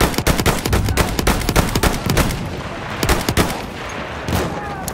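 Enemy machine gun fire in the Battlefield 1 video game rattles in loud, rapid bursts of close shots, forming a dense stream of gunfire with brief variations in intensity.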